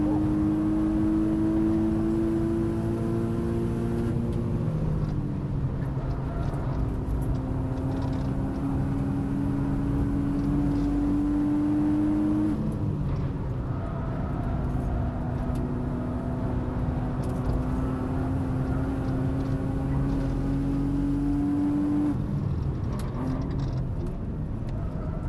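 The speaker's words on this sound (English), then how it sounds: "The super interesting part about listening to these two cars when they go around the same lap" A street-class time attack car's engine drones steadily on a fast lap, with its pitch climbing through each gear and dropping at the shifts, continuous and fairly close with no talk.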